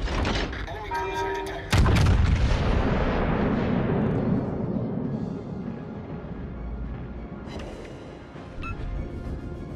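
Yamato battleship main guns fire in World of Warships: Legends, a loud booming blast followed by a long rumbling decay and a smaller second report near the end, with a game voice line heard.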